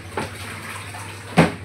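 Clothes tumbling in a home washing machine make a steady watery churn and hum, broken by two short splashy surges near the start and end, with no talking.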